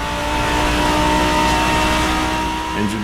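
Modded car engine in the Assetto Corsa racing game revving hard near 8,000 RPM, a steady loud high-pitched drone of harmonic tones that holds nearly constant, then shifts slightly near the end.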